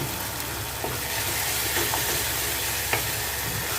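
Chopped tomatoes with salt sauté in a pan for a drumstick and fenugreek kuzhambu, giving a loud, continuous close-up sizzle with occasional scraping stirs and no talking.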